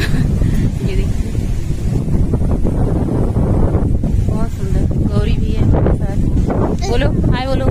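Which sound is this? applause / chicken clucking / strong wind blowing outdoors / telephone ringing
strong wind blowing outdoors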